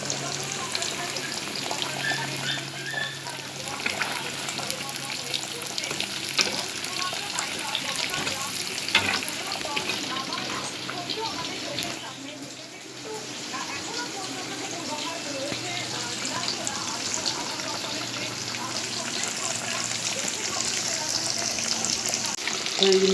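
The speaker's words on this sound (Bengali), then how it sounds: "এই যে ভাজা হচ্ছে, বেগুন ভাজা, কাঁকরোল ভাজা, পটল ভাজা," Brinjal, kakrol and potol slices frying in oil in a kadai give a continuous crackling sizzle with occasional stirring scrapes, steady and close for the full length, dipping briefly midway.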